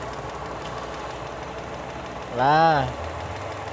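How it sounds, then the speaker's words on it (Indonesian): An old car engine idles with the oil filler cap removed, making a steady low mechanical hum throughout. A short spoken interjection rises briefly above it. "ini dalam keadaan mesin menyala, tutup oli ini dibuka"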